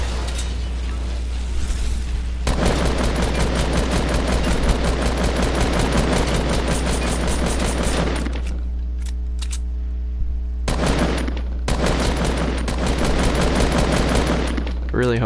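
Sustained automatic gunfire in Fortnite Battle Royale, loud rapid bursts running for long stretches with brief pauses between volleys, over a steady low game hum.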